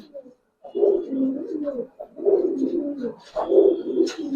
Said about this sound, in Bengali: লং ফেদারের কবুতর, এই যে খুব সুন্দর কবুতর